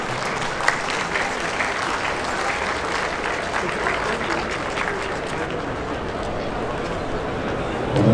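A crowd applauds steadily at a school sports day opening ceremony, welcoming a distinguished alumnus; dense, continuous clapping fills the whole stretch at an even loudness, swelling slightly at the very end.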